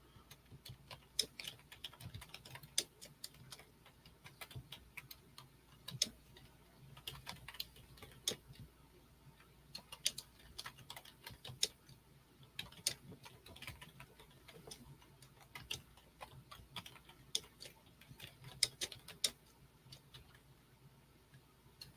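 Quiet, steady typing on a computer keyboard, with rapid close key clicks in an irregular patter that runs throughout with no voices.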